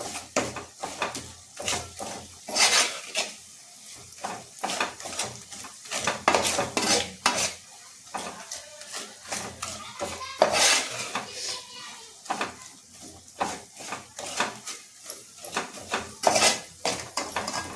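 Spoon stirring and mixing soybean gravy in a metal pan, repeated clinks and scrapes against the pan in an uneven rhythm with a faint sizzle underneath, close and without talk.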